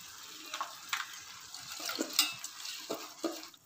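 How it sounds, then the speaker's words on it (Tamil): Drained rice is stirred through a pan for Karnataka-style kara pulao, with soft intermittent scrapes and spoon clinks over a quiet sizzle. "இதை நல்லா உடையாமல் கிண்டி விடுங்க"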